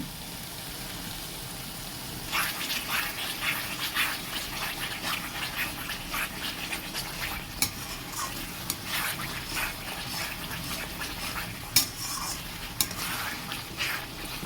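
Spices for chicken kosha frying in oil in a pan, with a steady soft sizzle and repeated scraping strokes of a spoon stirring, a few sharper clinks against the pot, close and moderately quiet.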